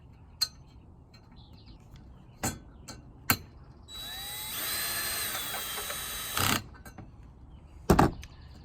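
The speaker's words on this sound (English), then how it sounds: "Now I'm going to put the screws back in." A power drill drives screws back into drilled holes on the roof of a 2018 Sprinter van: one sustained whirring run of about two seconds between scattered clicks and knocks, in a quiet setting.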